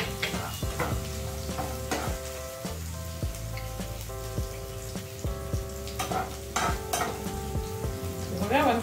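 Chopped green chili dropped into a hot pan for masala poha, giving a close sizzle broken by stirring scrapes and clinks of a utensil against the pan.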